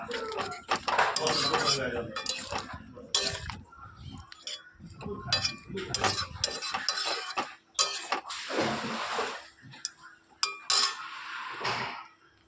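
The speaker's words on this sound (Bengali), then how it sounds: "তো শাহি গরম মশলা দিয়ে একটু নাড়াচাড়া করে দিয়েছি।" Metal spoon scraping and clinking against a pan while fig curry with shahi garam masala is stirred, irregular close knocks and scrapes throughout, with faint talk in the background.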